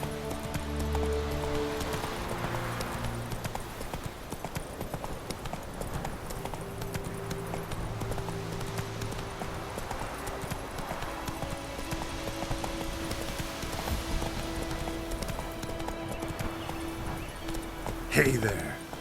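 Roach the horse galloping in The Witcher 3, a steady rhythmic clatter of hooves running throughout with music and a voice speaking over it.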